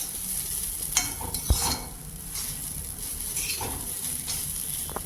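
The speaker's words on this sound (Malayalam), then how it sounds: "ഇനി നമുക്ക് തേങ്ങ ചെറിയ തീയിൽ വെച്ചൊന്ന് മൊരിയിച്ചെടുക്കാം" Soft stirring and scraping in a pan with a low, steady sizzle of grated coconut dry roasting on a low flame, with a few sharper clinks of a spoon.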